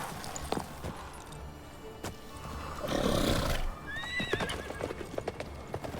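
A horse neighs and clops its hooves in the video game Witcher 3, with scattered hoof clatter, a swelling whinny midway and a few shrill cries near the end.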